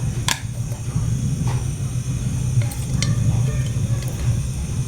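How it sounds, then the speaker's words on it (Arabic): A spice mixture dropped into hot oil in a pan sizzles steadily at close range, a continuous frying hiss with a few light clicks and scrapes of stirring. "نزلنا بالطاسه بتاعتنا بالزيت على النار وسيبناها تقدح، وهننزل بالخلطه بتاعتنا اهي تاخد التشويحه الاولانيه"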